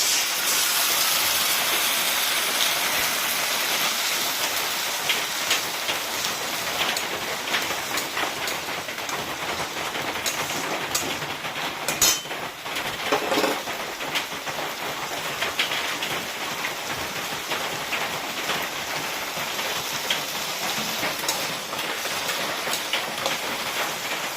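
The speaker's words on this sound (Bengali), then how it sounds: "পেঁয়াজটা ভাজা ভাজা হয়ে গেছে, আমি এখন মশলা দিয়ে দিব।" Ginger, garlic, cumin and dried chilli paste sizzling in hot oil with fried onions for a fig (dumur) curry, a steady loud frying hiss that runs unbroken throughout, with no voices.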